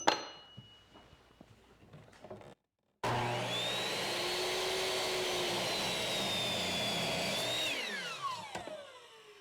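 A miter saw with a fresh blade cuts walnut for a large float frame: after a short pause, a loud, steady motor whine holds for several seconds, then winds down as the blade slows.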